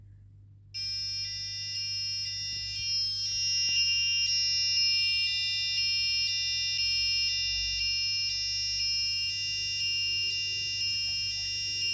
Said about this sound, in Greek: Ο συναγερμός λειτουργεί